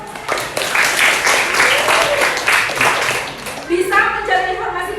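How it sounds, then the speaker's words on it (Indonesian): Applause from a sixth-grade primary school class in Indonesia during a reading lesson, a burst of clapping for several seconds that fades as a teacher begins speaking. "tepuk tangan"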